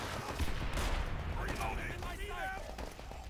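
Bursts of gunfire in Call of Duty: World at War crackle in quick succession, with a muffled rumble and scattered game effects underneath.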